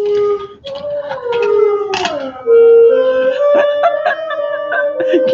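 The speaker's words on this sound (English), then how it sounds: "And there goes the dog to sing with it." A dog howls along with a clarinet indoors, its long wavering howls rising and falling over the clarinet's sustained notes, loud and close, with a few short yips.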